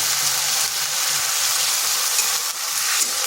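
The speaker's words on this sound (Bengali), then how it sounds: "এরপর এখানে দিচ্ছি সামান্য একটু জল।" Steady, loud hiss and sizzle from a pan of frying lentil-and-bottle-gourd masala as a little water hits the hot oil, a continuous crackling wash with no talk.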